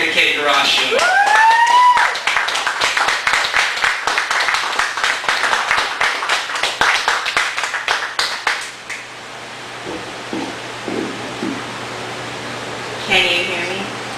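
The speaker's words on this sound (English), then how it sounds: "please keep the applause going" A crowd at a Chicago poetry reading applauds loudly for a poet coming to the stage, dense clapping lasting several seconds with a brief voice early on, then fading to quieter room sounds and a little talk.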